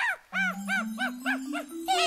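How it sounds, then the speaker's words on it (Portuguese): A cartoon dog barks in a quick series of six or seven evenly spaced, bright yips over a rising musical tone, loud and close. "Late de novo, Lily Pet!"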